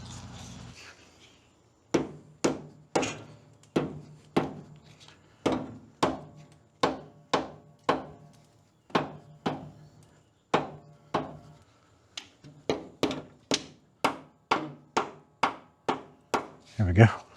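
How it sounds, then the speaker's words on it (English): Steady hammer blows knock a stuck bolt free from a ramshaft bracket, about twenty sharp metallic strikes in an even rhythm, close and loud, with a short pause partway through. "I imagine I will have to bump this a little bit to get it free."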